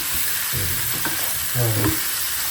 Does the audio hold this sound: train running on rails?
no